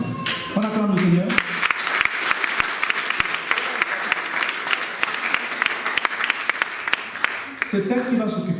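A church congregation applauds loudly and steadily for several seconds, dense clapping filling the room, with a voice speaking briefly at the start and end.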